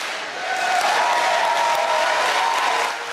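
A crowd gathered for the Pope at a church in McAllen, Texas, on the U.S.-Mexico border keeps up loud cheering, clapping and chanting that swells and holds steady throughout.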